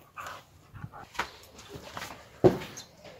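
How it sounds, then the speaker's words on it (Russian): A dog whimpers and pants softly indoors in short faint bursts, with a sharper yip near the end and a person talking quietly nearby. "такой хороший пес"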